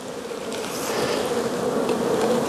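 Honeybees buzzing around an open hive where comb is being built in open space, a steady, dense drone of many wings close by that swells slightly louder after the first moment and holds alone without talk.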